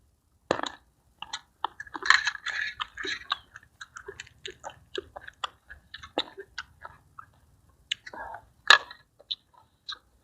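Crunchy chicken-feet papaya salad with fermented fish sauce being chewed close up, with sharp bony crunches and bites in irregular bursts, short pauses between mouthfuls, and a loud crack near the end.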